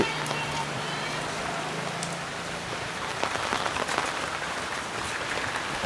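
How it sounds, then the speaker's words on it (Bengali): Heavy rain pours steadily, a dense continuous hiss of drops pattering on surfaces close by, with no voices. "এখন বৃষ্টি হইতেছে প্রচুর"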